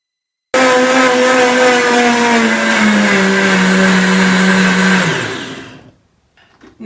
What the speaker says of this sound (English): And then I'm just going to blend that up for about a minute in a high-speed blender.